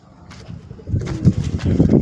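Pigeons coo in low, throaty bursts close by, the calls growing louder and more frequent, with some rustling and faint wing movement.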